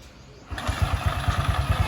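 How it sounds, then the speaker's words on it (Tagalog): A motorcycle engine catches partway through and settles into a rapid, chugging idle, close by, following a short stretch of quiet background. "bukas na yung motor natin, paandar na siya"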